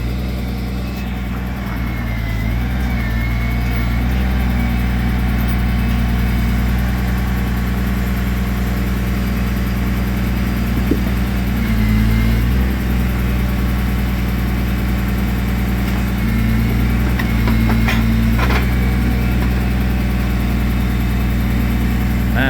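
A fully rebuilt log truck's engine runs at a deep, loud, steady idle, with a few short revs rising and dropping back, heard up close without voices.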